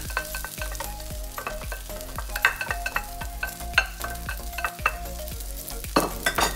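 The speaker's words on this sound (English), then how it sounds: "the main technique in fried rice is stir frying it" Vegetable and prawn fried rice is stir-fried in a hot pan, with a continuous sizzle and a rhythmic scraping and clanking of a utensil as the rice is tossed, close and steady with no talk.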